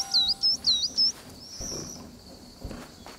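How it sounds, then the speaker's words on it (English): Birds in the Alba video game chirp in a quick run of four bright tweets, followed by a softer trailing call over faint ambient background. "There's a bird."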